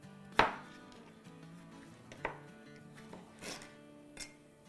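A knife chops tomatoes into small pieces on a board, with one sharp strike followed by a few softer, scattered cuts at close range in a quiet kitchen.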